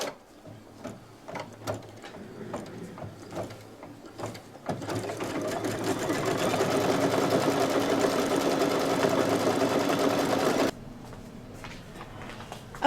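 An embroidery machine sews a tack-down stitch around a tree shape on a Halloween owl placemat block, a steady mechanical whir that builds and runs for several seconds before stopping abruptly, after faint clicks.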